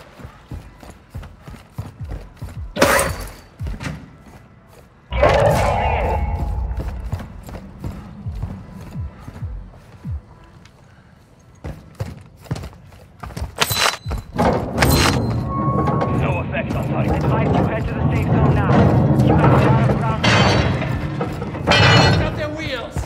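Mortar shells slam down in a military shooter video game, heavy broadband impacts around 3, 5 and 14 seconds amid clattering debris, thuds and ongoing game noise, with voices talking at times.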